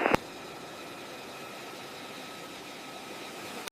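A US Air Force C-17 Globemaster III taxiing gives off a steady, even jet engine whine and roar that holds level throughout, with a short sharp noise at the very start.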